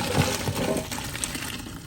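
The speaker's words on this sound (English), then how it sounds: "Set it aside, and then let's go drain this. I'm gonna drain it," Cooked pasta is drained as its hot water gushes and splashes steadily into a sink, a close, continuous pour with no voices.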